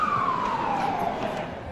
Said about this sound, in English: Sirens join in.